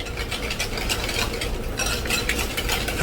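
A spoon stirs a warm mixture with vanilla in a pan, making a continuous close scraping and swishing with faint bubbling underneath and no voices.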